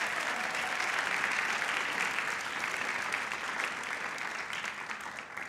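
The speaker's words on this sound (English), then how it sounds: "Can we get another round of applause for those amazing posters?" Audience at a Howard County MLK celebration applauding the poster contest winners, with continuous dense clapping from a large crowd, steady and loud throughout and easing slightly at the end.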